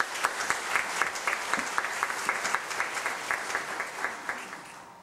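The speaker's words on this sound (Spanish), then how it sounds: "para quien les pido que por favor demos un fuerte aplauso" Audience at an evening lecture breaks into sustained applause, many hands clapping steadily at close range for the whole stretch, with no speech over it.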